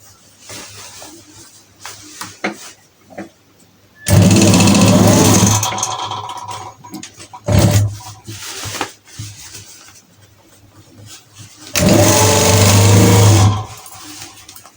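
Sewing machine stitching the inside seam of a uniform coat collar, running in two loud bursts of a few seconds each, separated by quieter handling sounds.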